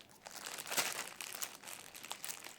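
A plastic bag crinkles and tears up close, a busy, continuous rustling and crackling with brighter ripping bursts throughout and no talk.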